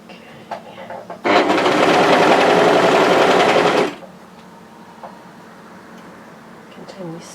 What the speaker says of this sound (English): Continue stitching, making sure you have the 3 layers.